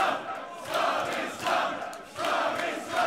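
A crowd at a hardcore championship wrestling match cheers and roars in repeated swelling waves, loud and distant-sounding in an arena, with three or four surges rising and falling.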